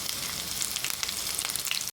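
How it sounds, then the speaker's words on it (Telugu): Mustard seeds, dals and dry red chillies frying in hot oil for a tempering, a continuous crackling sizzle with sharp pops, close and loud, cutting off abruptly at the end. "ఆయిల్ హీట్ అయ్యాక ఆవాలు, పచ్చిపప్పు, సాయమినపప్పు, ఎండుమిర్చి ఇవన్నీ వేసుకొని ఫ్రై చేసుకోవాలి."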